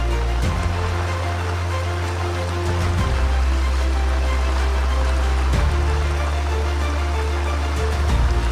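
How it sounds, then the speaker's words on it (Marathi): Indrayani river floodwater rushes steadily through a village, with a continuous low roar and broadband hiss, nearby and unbroken. "पूर्णपणे गावात पाणी घुसलेलं आहे."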